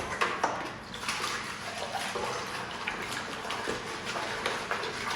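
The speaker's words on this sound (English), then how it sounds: "get me a little bucket of soapy water" A small bucket being filled with soapy water for washing a Suzuki Swift VVTS headlight: a steady, close rush of running water with faint splashy variation, no talking over it.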